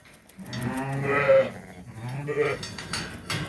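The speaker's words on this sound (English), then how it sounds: "A lot of sheep came in." Many sheep and lambs bleat in a busy lambing barn, overlapping calls rising and falling close by, with a steady murmur of animal noise and a faint voice underneath.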